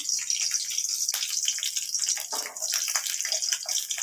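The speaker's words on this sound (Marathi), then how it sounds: "हे बघा गरम तेलामध्ये छान लसूण आपल्याला" Garlic sizzles and crackles in hot oil for a green chili thecha, a close, steady hissing fry with small bursts of spatter and no voices.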